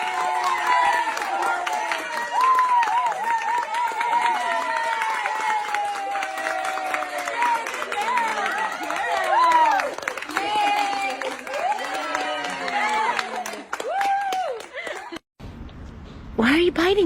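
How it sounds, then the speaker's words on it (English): Clapping and crowd noise fill most of the stretch, a dense continuous round of applause mixed with voices and excited chatter, broken by a short silence before the sound returns. "Give your dog a round of applause and watch their reaction."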